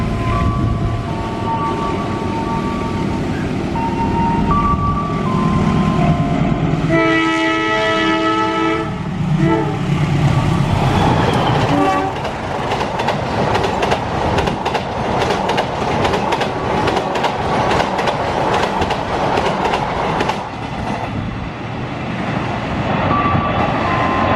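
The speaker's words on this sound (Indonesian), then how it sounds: "Jalur 2 akan melintas kereta api Matarmaja 270" The Matarmaja 270 passenger train rolls through Klari station with a loud, continuous rumble of wheels. A sustained horn blast comes partway through, and rhythmic clickety-clack follows as the carriages pass close by.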